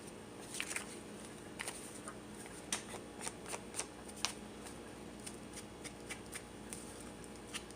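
Paper edges are distressed for a corner-tuck craft project, a soft scraping and rasping with scattered light ticks over a steady background hiss, close and fairly quiet, with no talk.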